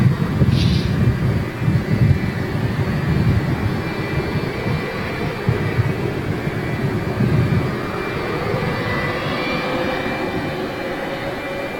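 A Jet2 Boeing 757 with Rolls-Royce RB211 engines roars past at Manchester Airport, a loud sustained rumbling jet noise with some wind buffeting on the microphone.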